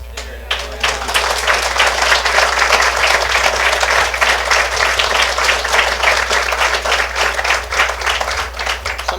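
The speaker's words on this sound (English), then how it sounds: "How about a round of applause for Mr." Applause from the audience at a Law Day bar gathering, a sustained, dense round of clapping that stays loud and steady for about nine seconds with no talk over it.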